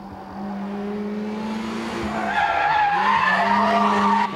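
A Toyota AE86 drifting on a circuit produces a loud, sustained tire squeal that rises and wavers in pitch over the engine drone, close and continuous, with no talking.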